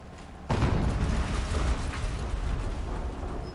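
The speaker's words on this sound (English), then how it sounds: "An explosion." A sudden explosion bursts in the Horizon Zero Dawn video game, starting abruptly and leaving a loud, sustained rumbling roar with mechanical rattling for several seconds.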